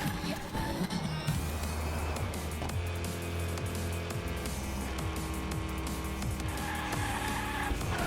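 Monster truck drifting in Hot Wheels Unleashed, with a steady engine roar and tire squeal under dense game music, loud and continuous throughout.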